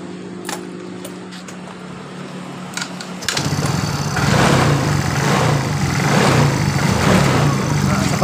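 A Yamaha Mio J scooter engine idles steadily, then revs up louder and rougher with its spark plug partly loosened, a continuous close mechanical drone.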